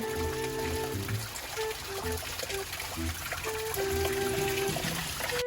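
Spring water trickling steadily and close by on a seashore, with a soft continuous splash and faint voices in the background.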